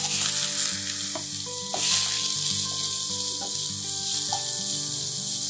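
Chopped medium-sized onions sizzling in ghee in a kadai over a medium-high gas flame, a steady bright frying hiss under soft background music with no talking.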